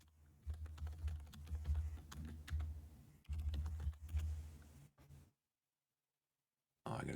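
Keys clatter on a computer keyboard in quick irregular bursts, close and fairly soft, with a short pause mid-sequence before the typing stops into silence and resumes briefly.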